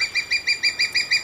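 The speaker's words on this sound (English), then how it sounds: "The air resonates with the sound of a juvenile crowned eagle." A juvenile crowned eagle, a young female about 14 months old, calls in a rapid, evenly spaced series of seven thin, high-pitched piping notes, clear and fairly loud.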